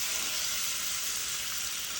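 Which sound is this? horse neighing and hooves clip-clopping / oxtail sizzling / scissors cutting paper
oxtail sizzling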